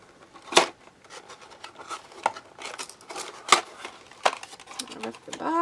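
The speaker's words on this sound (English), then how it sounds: "I'll rip the box, and there he is." A cardboard box is ripped open, a series of sharp tearing and crinkling bursts spaced irregularly over several seconds, fairly close, with quieter rustling between them.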